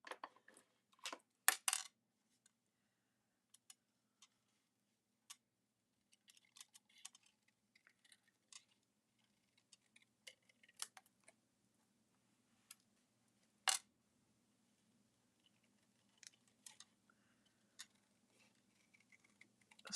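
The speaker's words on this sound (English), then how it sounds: "Sorry you have to watch me fussy cut." Scissors snip around a stamped paper image in sparse, quiet, irregular clicks with long silent gaps, close and alone without talk.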